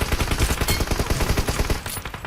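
Rapid automatic gunfire from a video game rattles in one continuous, loud, close burst of evenly spaced shots.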